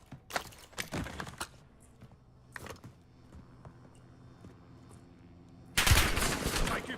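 Bursts of automatic gunfire in a Warzone match, a few sharp volleys early, then quieter stretches before a louder sustained burst of shooting near the end.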